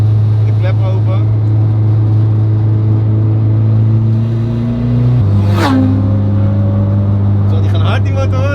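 A turbocharged K24 engine in a widebody Honda Civic drones loud and close, stepping up in pitch as it accelerates, with a brief whooshing burst partway through.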